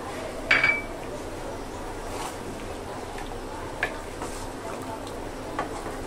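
Blended spice paste added to frying chicken for kala bhuna, a sharp metallic clink of utensil on pot followed by a faint sizzle and a few soft scraping stirs.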